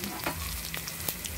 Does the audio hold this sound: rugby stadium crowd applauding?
no